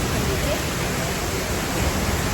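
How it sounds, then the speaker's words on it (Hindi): Loud, steady roar of a waterfall on the Kedarnath yatra route in the mountains, a dense unbroken rush of falling water filling the whole clip, close and constant. "और वाटरफॉल की ही आवाज़ आ रही है, मेरी आवाज़ तो आपको सुनाई भी नहीं दे रही होगी।"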